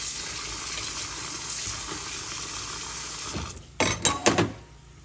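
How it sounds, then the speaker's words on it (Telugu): Sago pearls are washed by hand in a bowl of water, a steady soft watery swishing throughout, ending in a few louder clattering splashes and sloshes near the end. "చూడండి, ఇలా శుభ్రంగా కడిగేసుకోవాలి"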